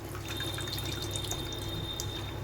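Water from rinsing the spice bowl is poured into a simmering dhoka curry gravy: a faint, steady trickle with light drips, close by, with no talk.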